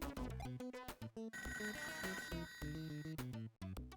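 An electronic telephone ringtone chimes in a video game, a loud looping melodic ring with rapid repeating tones that plays alone without talk.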